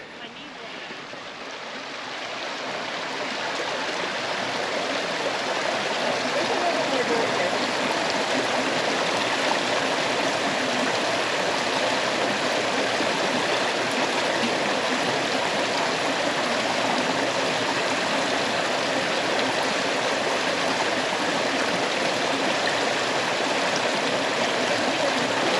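A creek flows steadily in a Utah slot canyon, setting up a broad continuous rushing wash that builds over the first few seconds and then holds loud and even throughout.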